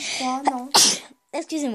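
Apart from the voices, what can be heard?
sneeze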